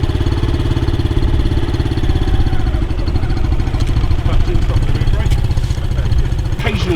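A CBT training motorcycle engine runs steadily and loud and close during riding practice, its fast, even mid-pitched throb holding for the whole stretch with no pauses and no speech.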